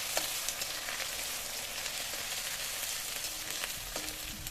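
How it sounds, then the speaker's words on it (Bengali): Ginger and garlic fry in oil in a pan for a meat curry, giving a steady soft sizzle and crackle with occasional stirring scrapes, fairly quiet and without talk. "রসুন দিচ্ছি আদা দিচ্ছি আদা রসুনটা একটু মেরে নেবো"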